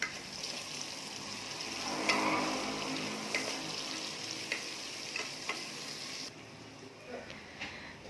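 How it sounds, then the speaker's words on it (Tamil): Four large onions are sautéed in a pot for mutton biryani, a soft continuous sizzle with scattered stirring scrapes that thins out near the end, close-up and with no one speaking. "வெங்காயம் நல்லா பொன்னிறமாக வதக்கி எடுத்துக்கலாம்."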